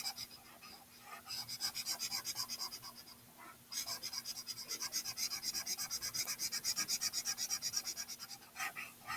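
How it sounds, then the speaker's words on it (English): A marker coloring in a drawing on paper, quick rhythmic scratchy strokes repeating close up, pausing briefly partway through and then continuing steadily, with no talk. "And I'm using my marker on its side to kind of make a thicker line."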